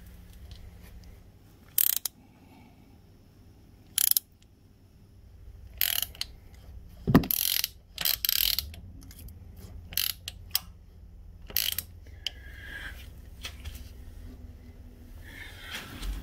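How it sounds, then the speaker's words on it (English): A ratchet clicks in short, separate bursts while a mechanic turns the crankshaft of a Suzuki KingQuad ATV during a valve clearance check, with quiet pauses between the turns. "which means we need to turn the crankshaft another 360 degrees"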